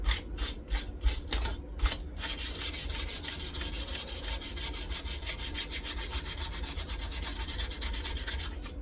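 A Stratocaster guitar body gets a light hand sanding with quick rhythmic back-and-forth strokes, sharply separated at first, then a dense even scrubbing run, close and loud.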